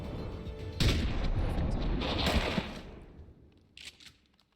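A heavy gunshot boom in the XCOM 2 tactical game, a loud blast with a rolling tail that fades, followed by a fainter secondary impact.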